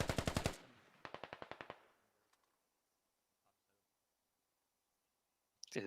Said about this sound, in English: He gets mowed down by the saw.